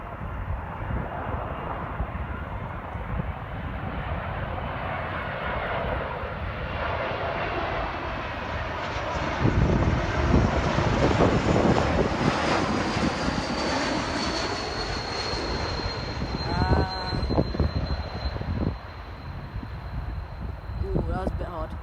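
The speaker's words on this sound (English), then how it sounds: "we're here to capture some crosswind landings and takeoffs" An airliner lands in a strong crosswind at London City Airport, its engines a loud, steady roar that swells and fades over about twenty seconds, with wind noise and a person talking nearby.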